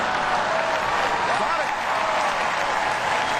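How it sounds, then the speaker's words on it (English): Convention crowd at the Republican National Convention claps loudly and continuously, a thick, unbroken burst of applause filling the hall. "I bet you never thought Hillary would get an applause at this convention."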